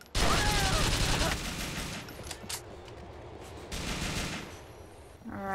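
Rapid, loud bursts of automatic gunfire in the biker game GTA IV: The Lost and Damned, a dense fusillade that eases into scattered shots and echoes before flaring up again.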